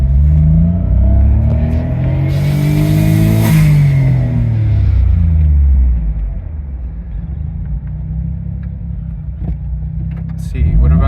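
A Suzuki Cara Autozam AZ-1 kei car with a Keisport PNP engine computer revs in place in a garage, rising to a loud peak and falling back to a rumbling idle, with a voice briefly over it.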